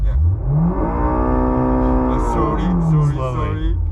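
A simulated Honda VTEC engine sound in an electric car rises as the driver pushes engine speed toward 6,000 RPM, a steady climbing synthetic rev tone that holds and wavers, with voices talking over it.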